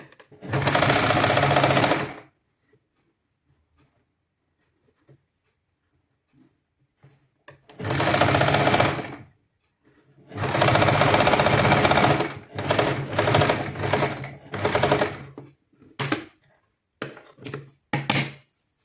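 Sewing machine stitching the side seams of a children's garment in a tailoring lesson, running in several loud bursts with pauses between, the later runs short and choppy as the fabric is guided.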